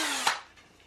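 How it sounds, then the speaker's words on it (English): A power drill with a very small bit bores holes in wood for a castle bunk bed, a short bright whir that spins down quickly and trails off to near quiet. "Using a very small drill bit, I'm just putting some holes in this 90-degree"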